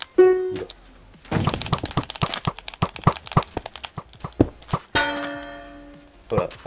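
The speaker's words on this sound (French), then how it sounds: "normalement quand on fait un kill on entend une sorte de cloche" A ringing bell tone at the start and another after a run of quick thuds and clicks, heard during a Minecraft PvP match on PS4 Bedrock, with someone speaking briefly in between.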